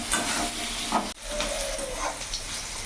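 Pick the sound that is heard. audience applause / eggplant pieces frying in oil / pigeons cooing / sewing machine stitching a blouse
eggplant pieces frying in oil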